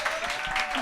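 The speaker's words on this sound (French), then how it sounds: "c'était Fred Cham, on peut l'applaudir." Applause from a podcast audience greeting comedian Fred Cham, a short, even burst of clapping at moderate level lasting under a second.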